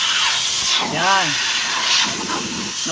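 Compressed air hisses out of a Shacman heavy truck's maxi brake as a continuous loud rush, with a short squealing tone partway through.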